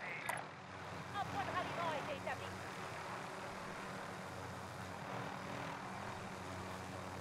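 A Warzone helicopter drones steadily through the whole stretch, a low continuous rotor and engine rumble at middle distance, with brief sharper game sounds near the start.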